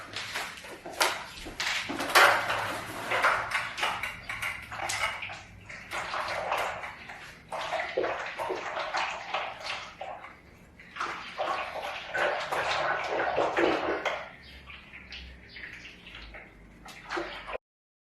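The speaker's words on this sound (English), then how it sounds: "We have the wall paint in this big 5-gallon bucket, and honestly it's really annoying to stir" Wet, sloshing scrapes of wall paint being stirred in a large 5-gallon bucket during a home renovation, continuing in uneven bursts for most of the stretch before trailing off near the end.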